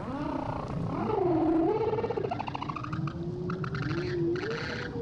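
Humpback whale song on a migration route: long, sliding moaning tones that rise and fall, with higher chirping and creaking calls layered over a steady background wash.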